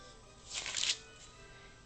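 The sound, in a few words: parchment paper being handled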